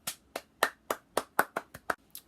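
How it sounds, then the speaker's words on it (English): About ten separate, sharp hand claps at a graduation fall in a loose, slightly uneven rhythm, close and clear with near silence between them. "So I'm giving you guys a big round of applause."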